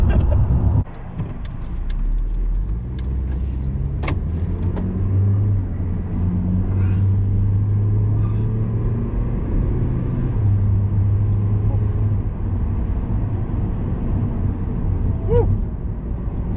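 A 2007 Honda Civic EX engine is floored to about 7,000 RPM, a loud steady rising drone heard from inside the cabin with road rumble beneath and a brief thump at the start.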